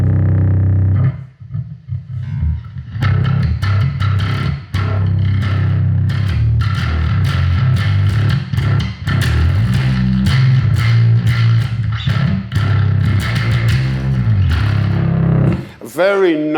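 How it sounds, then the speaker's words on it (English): A gnarly, heavily distorted bass synth for the Terminator: Dark Fate score growls in dense, rhythmic bursts, loud and gritty, running continuously with brief gaps. "Very gnarly distortion bass sound."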